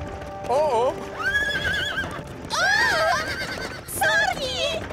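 A cartoon horse whinnies several times in shrill, wavering calls while galloping, with hoofbeats and other voices faintly underneath.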